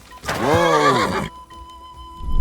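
A horse in Kingdom Come: Deliverance II lets out a loud, close whinny lasting about a second, rising and falling, followed by a quiet game ambience with a faint steady tone.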